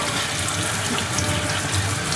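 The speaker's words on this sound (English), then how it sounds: "I put them in a colander like this, and I just rinse them real good, like this" Mushrooms are rinsed under running water in a colander, a steady close rush of tap water spraying into the sink without pause.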